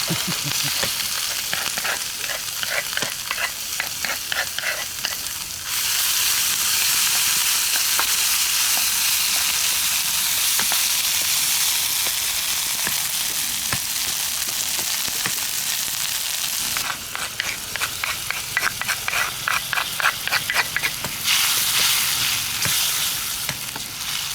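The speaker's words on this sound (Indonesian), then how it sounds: "Goreng bumbunya dulu." Spice paste for a wild petai dish with temu kunci sizzles loudly in hot oil in a pan, a continuous fry with bursts of rhythmic scraping as it is stirred.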